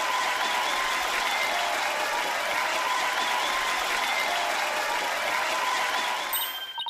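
Courtroom crowd in the Apollo Justice Ace Attorney game bursting into steady, dense applause and cheering, loud and continuous throughout before tapering slightly at the end, with no talk over it.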